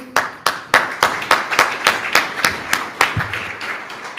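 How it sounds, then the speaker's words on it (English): An audience at a live show event gives a round of applause, a series of sharp, evenly spaced claps rather than a dense crowd roar, fairly close, with a brief murmur of voice near the end. "A round of applause for my champions."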